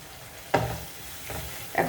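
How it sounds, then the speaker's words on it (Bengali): Spices and garlic frying in a pan for a tuna fish dish, with a steady close sizzle broken by a few scraping stirs of a spoon. "আমার এটা মশলাগুলো একদম ভাজা হয়ে আসছে"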